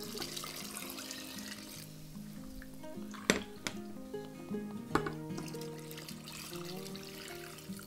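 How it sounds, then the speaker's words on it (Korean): Tap water pouring into a pot for beef and shiitake mushroom porridge, a steady close splashing stream with a couple of sharp clanks partway through. "물을 여기 다 넣고"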